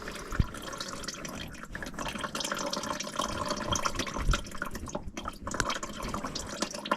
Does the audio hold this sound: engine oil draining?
yes